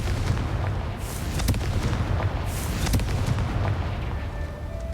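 A Confringo fire spell detonates in Hogwarts Legacy with a dense, rumbling roar of explosive bursts and crackling that fills the whole moment, loud and close, with no voices.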